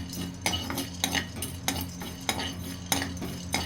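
Peanuts dry-roasting in a pan for a spicy peanut powder, with a spoon scraping and stirring in short regular strokes about every half second, close and moderately loud over a steady low hum.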